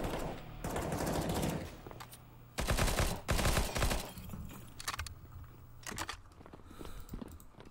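Video game gunshots come in loud, rapid bursts, with clusters of sharp reports that start and stop over several seconds and fade to scattered lighter shots toward the end.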